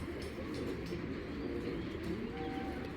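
Racing pigeon of a foreign bloodline, a male, cooing close by in a steady low murmur that runs throughout, with faint background chatter of other birds.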